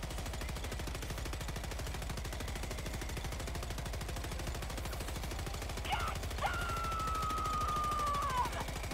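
Turret machine gun fire in the video game Helldivers 2, a fast steady rattle of rounds running under game noise, with a rising electronic whine near the end.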